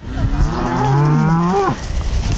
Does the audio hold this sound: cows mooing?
yes